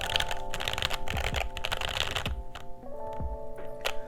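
Typing on a Keebwerk Mega mechanical keyboard with a thick, stiff plate gives a steady run of firm keystrokes, close and clear, with a few heavier thocks like the spacebar over a light background hum.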